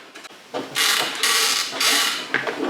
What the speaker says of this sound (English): Again, you can hear the creaking.